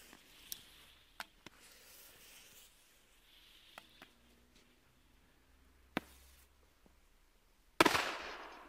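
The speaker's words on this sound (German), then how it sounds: "So, jetzt kommen die Super Böller 2 von Panda." Panda Superböller 2 firecrackers go off outdoors on New Year's Eve: several weak, scattered pops spread over the clip in faint, quiet surroundings, then one sharper, louder bang with a burst of hiss near the end.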